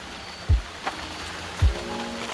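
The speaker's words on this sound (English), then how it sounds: "It is raining quite a lot." Heavy rain falls in a steady hiss, broken by two dull low thumps.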